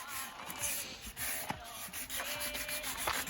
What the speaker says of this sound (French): Continue le ponçage du réservoir.